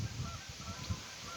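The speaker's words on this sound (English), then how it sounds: "Canada geese, a few of them flitting around there, a little bit of wind." Canada geese honking outdoors in a wooded setting, a few repeated calls at moderate distance with light wind noise behind them.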